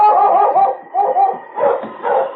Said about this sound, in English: a series of barks from King announced that he had found Gideon